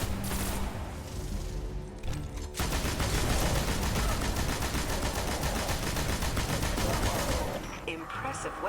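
Heavy automatic weapon fire from the video game Destiny, a dense sustained rattling burst that runs for several seconds after a brief lead-in, loud and continuous, with faint game voices in the background.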